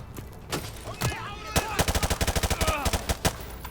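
Rapid bursts of automatic covering fire in Call of Duty Modern Warfare 2 Remastered, a dense string of sharp, loud shots with a few scattered single cracks before it, close and dominating.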